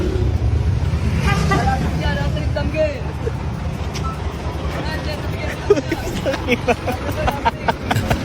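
A jeep drives along a busy street, its engine rumbling steadily beneath loud crowd chatter and several voices talking throughout.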